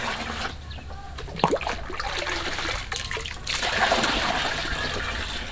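Water drawn straight from a fish pond pours steadily into a bucket for a hydroponic catfish setup, a continuous close splashing rush with a brief brighter splash partway through.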